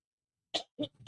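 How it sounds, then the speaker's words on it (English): Three quick, sharp coughs in close succession, loud and near, with silence before them. "That made me cough."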